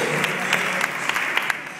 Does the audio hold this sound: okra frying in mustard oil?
no